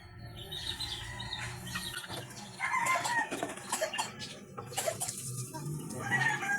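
Two-month-old Kanawayan Hatch and Gray Hatch cross chicks cluck and chirp softly and irregularly nearby, with a few louder bursts over a quiet background.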